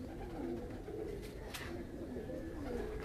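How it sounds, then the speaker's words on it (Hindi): Tournament-flying pigeons cooing softly and repeatedly in a quiet outdoor setting, low and faint murmuring calls with a brief higher sound midway. "यहाँ पर 8 कबूतर उड़ते हैं"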